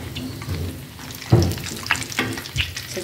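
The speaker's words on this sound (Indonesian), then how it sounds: "Seterusnya seperti ini cara menggorengnya" Eggless flour dough for crispy dry pastries (pastel kering) frying in hot oil, a close, continuous sizzle broken by stirring scrapes and bubbling bursts.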